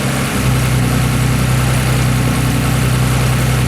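The engine of a 1961 Aston Martin DB4 GT Continuation runs close and loud, a steady deep mechanical drone holding at one pitch with dense vibration throughout and no talking.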